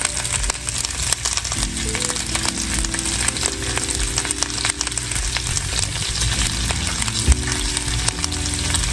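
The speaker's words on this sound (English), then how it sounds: "this is the onion, bacon, and jalapeno, red jalapeno" Onion, bacon and red jalapeno fry in a pan with a loud, steady sizzle and crackle that runs throughout without any talking.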